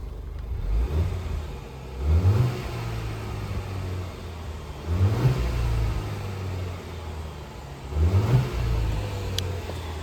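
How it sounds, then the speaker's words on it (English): A Range Rover Evoque P300 engine idles with the bonnet open and is revved three times at regular intervals, each rise a loud, throaty surge before it settles back to a steady idle. "Quite a nice sounding little engine on these as well"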